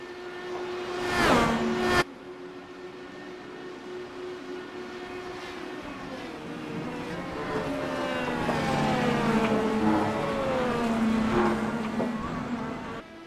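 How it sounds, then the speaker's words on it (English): A race car running flat out late in a race with the Skull car, its engine a sustained loud roar with shifting pitch as it passes and accelerates, opening with a short sharp burst before a steady drone. "He's just driving the heck out of that Skull car."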